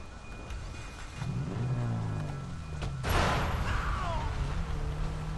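A car in Sleeping Dogs, its engine droning and revving up, then a sharp crash or whoosh near the end, with the engine still rumbling after it.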